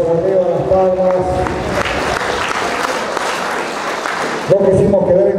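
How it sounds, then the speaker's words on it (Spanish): A crowd at a baptism celebration bursts into sustained applause, loud clapping filling the space between stretches of amplified talking at the start and end. "arriba las palmas"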